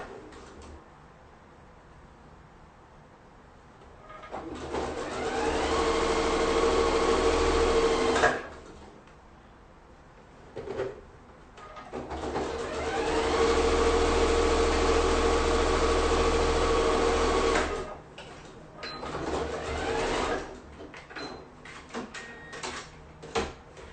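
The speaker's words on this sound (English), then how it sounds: "we're going to sew close to the zipper tape, or not zipper tape, excuse me, zipper teeth, about 1/8 of an inch" A sewing machine runs in two long close bursts, stitching along zipper teeth on a fabric pouch, with a steady motor hum and short pauses and quiet handling noises between runs.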